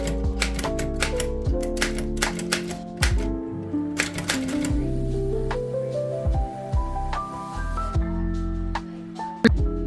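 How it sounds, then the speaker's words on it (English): Typing on a vintage typewriter: sharp, irregular mechanical key strikes and clacks, close and fairly loud, layered over tonal background music. "While I wrote on my vintage typewriter,"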